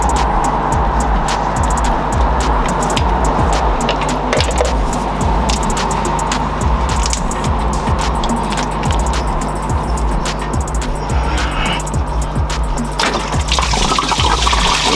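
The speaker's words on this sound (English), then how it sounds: "Alright, so I'm gonna drain out all of this coolant." Brown, old coolant draining out of a car engine, a steady close splashing gush of liquid running for the whole stretch with scattered drips and clatter, no speech.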